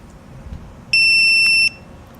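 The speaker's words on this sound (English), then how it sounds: "press the code button on the side for 6 seconds until you hear a beep" A single loud, high-pitched electronic beep from a tire pressure monitor holds steady for just under a second against a quiet background hum.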